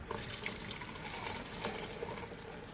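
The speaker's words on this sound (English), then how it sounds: "Carefully pour. Definitely don't want to spill any." Homemade soy milk being poured steadily, a continuous close liquid splash and trickle running the whole time with no talk.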